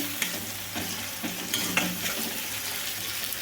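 Salted tomato pieces fry in a pan with a continuous hissing sizzle, broken by several crisp spatula taps and scrapes as the pieces are stirred, close and moderately loud.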